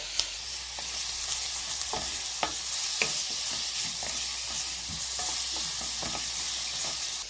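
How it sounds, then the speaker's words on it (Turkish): Bulgur roasting in melted butter with onions in a pot, giving a continuous close sizzle with frequent scraping clicks from a stirring spoon, no talk over it. "Tereyağı eridikten sonra bulgur ekleyelim. Biraz bulgur da kavuralım."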